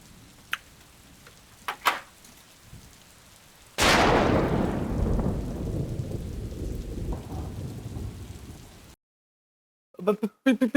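A thunderstorm with rain: light patter and a few sharp taps give way to a sudden loud crack of thunder that rolls and rumbles while rain pours, then fades out abruptly, followed by brief knocking sounds.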